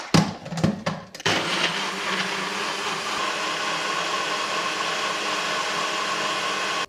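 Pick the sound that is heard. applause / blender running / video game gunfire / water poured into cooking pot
blender running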